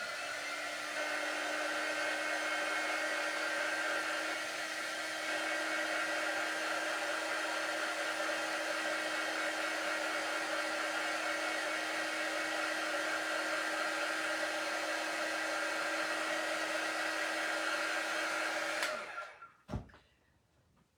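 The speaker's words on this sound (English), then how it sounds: "I'm going to hit it with a shot of heat with my quick dry tool." A handheld quick-dry heat tool blows steadily on a reusable chalkboard stencil with white paint, a loud, continuous whirring roar that holds for about nineteen seconds, then cuts off abruptly with a click and short rustles.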